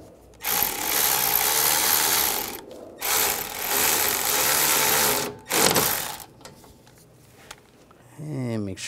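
A ratchet tightens a radiator bolt on a 2013-2016 Dodge Dart with a 2.4L four-cylinder engine, giving loud close bursts of rapid clicking separated by short pauses.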